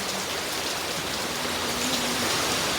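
Steady rain pours down, a dense even hiss of drops falling on surfaces, with no voices.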